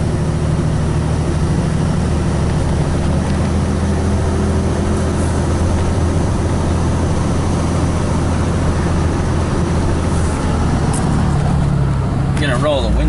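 A 24-valve Cummins diesel truck engine drones steadily while driving, low and loud throughout, with the engine pulling hard and wind noise rising near the end; people talk over it at times.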